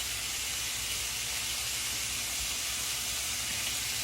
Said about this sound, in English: now I'm going to turn this one over. We're going to fry it on that side